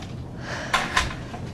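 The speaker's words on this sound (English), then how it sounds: "Would you mind closing the door, please?" An office door is pushed shut with two quick, soft knocks close together against a quiet room, and no one speaks.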